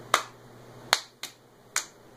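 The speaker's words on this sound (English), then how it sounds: "will you clap just an arbitrary rhythm?" Four sharp hand claps in an uneven, arbitrary rhythm during a beginner cello lesson, close and loud over a quiet room.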